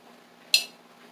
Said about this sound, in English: Alright, I'm going to give that a good stir.